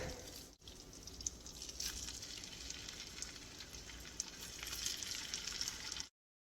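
Shrimp sizzle in salted butter in a pan, a steady crackling hiss with popping spatters, brief quiet dip near the start, then continuous frying until cutting off abruptly.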